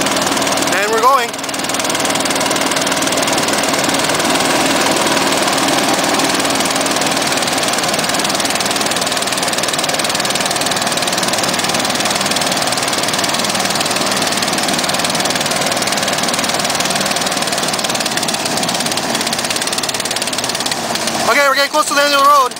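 A student-built hovercraft's small engine with a centrifugal clutch roars loud and steady at full throttle for the whole stretch, close up, with a brief drop near the start and a sputter at the end.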